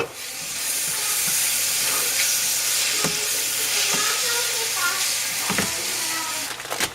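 Onions browning in coconut oil in a pan, salted, a continuous close sizzle with occasional spatula scrapes and stirring clicks, fairly loud and steady throughout, no talking.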